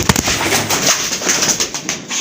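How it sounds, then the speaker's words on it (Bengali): Soft coos from a female pigeon repeat over a steady background hiss, with a few sharp clicks near the start; no talking. "এটা হচ্ছে মাদি কবুতর, জোড়া আছে না?"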